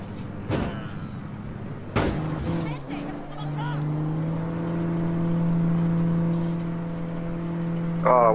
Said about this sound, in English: Car sounds a bit fucked.